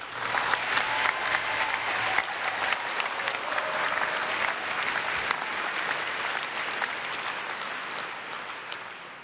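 Sustained, dense applause from a large audience at a YMCA 175th anniversary opening ceremony, steady and loud throughout with scattered louder claps standing out.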